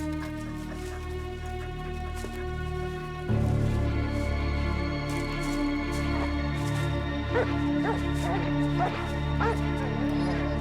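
A search dog outdoors yips and whimpers in short repeated bursts over steady background noise, with someone speaking French to it.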